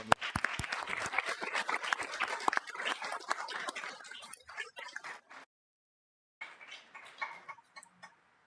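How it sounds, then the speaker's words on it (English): People at a school board meeting applaud the teachers, a sharp, close round of clapping that thins out and stops abruptly, then resumes more faintly after a short silence. "Let's give them a round of applause again"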